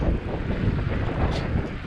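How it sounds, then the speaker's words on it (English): Strong wind buffets the microphone while riding a Funhang EB-S1 e-bike, a loud, continuous low roar that rises and falls and has no talking over it. "Man, it's just windy."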